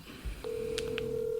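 A phone call being placed: a few short touch-tone beeps, then a long steady tone that holds to the end, close and clear.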